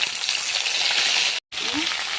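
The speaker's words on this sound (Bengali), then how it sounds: "মাছের মাথা ভেজে নেব" A fish head fries in hot oil, giving a loud, steady, close crackling sizzle that cuts out for a brief moment before resuming.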